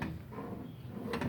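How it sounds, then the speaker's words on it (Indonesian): A drawer of a Multipro S-TT90 tool box trolley slides open or shut, a soft scraping rattle under faint room noise with a brief clack near the end. "laci ya, ini semacam laci"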